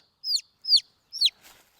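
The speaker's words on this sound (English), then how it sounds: "I'm gonna get her back in with the rest of the chicks." Young sex-link chicken chicks peep up close: three sharp, high, downward-sliding chirps in an even rhythm, then a faint rustle, with no other sound around them.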